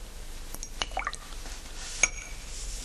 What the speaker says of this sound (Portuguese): Mexa a água do copo com um pincel.